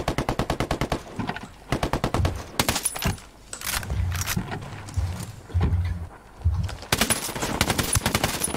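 Mounted machine gun firing in the Ghost Recon Wildlands video game, fast rhythmic bursts of automatic fire at the start and end, with heavier explosive thuds and quieter stretches between the bursts.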